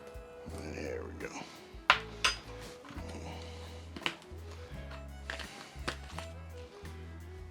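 Dry spices with onion powder for a pastrami rub are stirred together in a bowl, giving soft scraping and several sharp clinks of utensil against the dish, fairly quiet and close.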